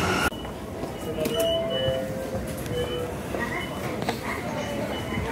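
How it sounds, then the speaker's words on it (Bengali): A fast train runs through busy Nakano station in Japan with a loud, continuous rumble, brief high wheel squeals and clattering near the platform. "তো ভাই ট্রেনের স্পিড দেখছেন কীরকম?"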